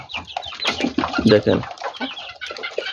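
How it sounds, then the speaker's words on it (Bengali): Hill chicken chicks cluck and peep close by while eating feed, short overlapping calls in busy bursts, with a person speaking briefly over them. "এই যে আমার পাহাড়ি মুরগির বাচ্চা,"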